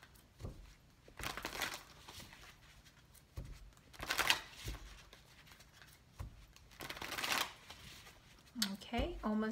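Tarot cards being shuffled during a reading, heard as several quick riffling bursts with pauses between them, close to the microphone, with faint handling noises in the gaps.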